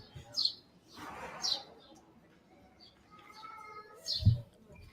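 Birds singing loudly outdoors at an auction site, sharp high chirps bursting several times over a quiet background, close and clear.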